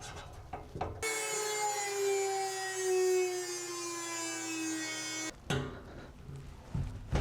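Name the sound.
rotary tool cutting through a truck bed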